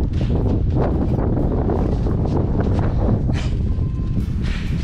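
Steady wind roars and buffets the microphone throughout on the snow-drifted Weinebene, a constant broadband rush with gusty swells and no voices.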